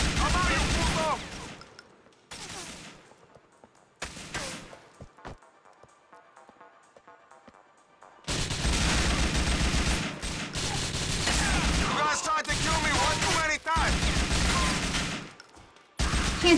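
Gunfire in the video game GTA IV: The Ballad of Gay Tony, with short bursts early on, a quieter stretch, then a long dense run of rapid shots and clatter heard up close.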